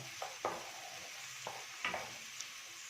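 Onion and colored bell peppers being sautéed in a pan for shawarma, with a few soft stirring scrapes and light sizzling spread across a quiet stretch, close by.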